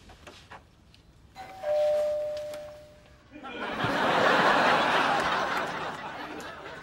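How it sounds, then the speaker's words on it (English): A doorbell sounds a single sustained chime, followed by a loud burst of noisy commotion and laughter from a TV sitcom. "Now ring the bell."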